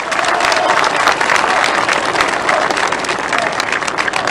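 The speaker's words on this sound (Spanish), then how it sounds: "¡Un fuerte voto de aplausos!" Dense, steady applause from a large crowd at the inauguration of a lithium carbonate plant, continuous and loud for the whole stretch.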